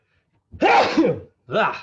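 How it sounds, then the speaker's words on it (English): A loud, close sneeze, followed by a short second vocal burst right after. "I'm gonna sneeze again."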